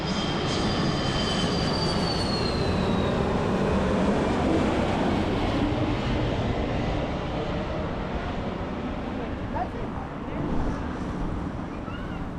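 A low-flying airplane passing overhead close to an airport, a loud broad roar with a falling whine early on, steady for several seconds before easing slightly.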